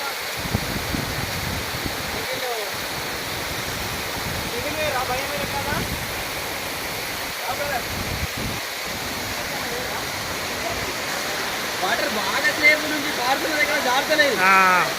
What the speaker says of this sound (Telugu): అక్కడ లోపలికి వెళ్ళాం అనుకుంటే పెద్ద వాటర్ ఫాల్స్ ఉంటుంది